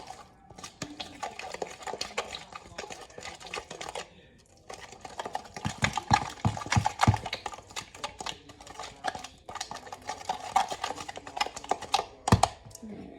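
Tzatziki sauce mixed in a bowl, a run of close, quick scraping and clicking strokes in uneven bursts, with brief pauses and some background voice and kitchen clatter.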